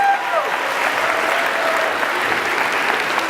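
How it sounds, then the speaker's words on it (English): Dense, sustained applause from an audience at a campus orientation presentation, an even wash of clapping filling the room without a break. "Give yourself a round of applause for being on campus."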